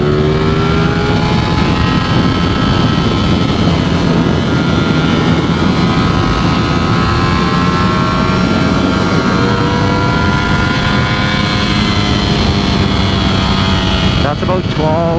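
A Ducati Streetfighter V4S motorcycle engine revs hard in third gear toward 13,000 RPM, a loud, close, continuous scream with rising harmonic whine and wind rush throughout, climbing steadily before easing near the end.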